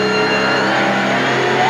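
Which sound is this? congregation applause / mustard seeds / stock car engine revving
stock car engine revving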